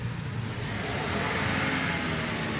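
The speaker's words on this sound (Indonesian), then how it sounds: "harus diinjak-injak gasnya" A 2.0-litre engine in a 2012 Mazda Biante hums at raised revs as the gas pedal is held down, a steady, loud, close drone that builds slightly without any speech.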